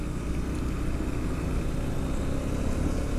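A Bajaj Dominar single-cylinder motorcycle engine labours uphill, a steady close rumble with a throbbing low pulse that holds at an even level throughout, with no talking.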